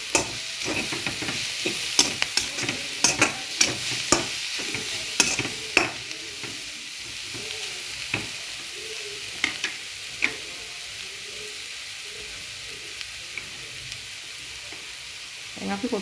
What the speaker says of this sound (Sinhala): මේක දැන් හොඳට කවලම් කරලා කොත්තු ටික දාගන්න